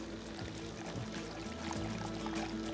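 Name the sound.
pouring water into yogurt spice mix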